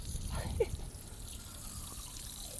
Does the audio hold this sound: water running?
yes